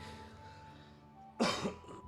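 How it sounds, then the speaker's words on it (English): A single sharp cough bursts out near the end after a quiet stretch with a faint steady hum. "told you I was going to cough."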